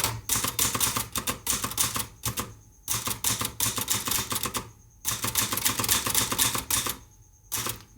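Typing on an Olivetti Lettera 22 manual typewriter: rapid, crisp key strikes in steady runs, broken by short pauses and by the ding and return of the carriage, close and clear.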